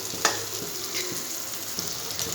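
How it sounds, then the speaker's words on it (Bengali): Beaten egg sizzles and fries steadily in a pan for egg tadka, a continuous close crackle with a few light taps of a spatula stirring and pushing it to the sides, with no talking. "ডিমটা দেওয়ার পরও খুব বেশি ভাজবো না"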